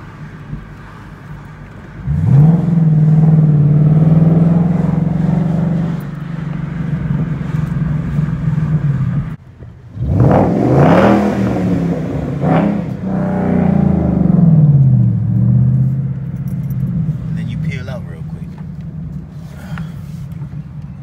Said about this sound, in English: I'm cutting the resonators off the Mustang because I need more loud.